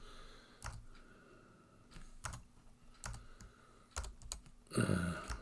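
Computer keyboard typing during a live coding session, a few sparse, close keystroke clicks spaced about a second apart, ending in a quick cluster of louder taps, quiet and without talk.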